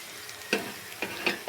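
Dried red chilies fry in hot oil for a mango chutney, giving a low, steady sizzle with a few sharp pops and crackles over a short span, close and fairly quiet, with no voices.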